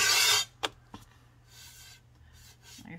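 A small Diamond Core Tool sanding pad rasping across a damp bisqued stoneware platter: one loud, close scraping stroke, then a few sharp taps and fainter, softer rubbing strokes.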